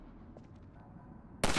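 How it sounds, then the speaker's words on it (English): Single sharp rifle shot fired at a latch in Half-Life 2: Episode 1, a loud abrupt crack at the end after quiet ambient hum. "Let me shoot out the latch"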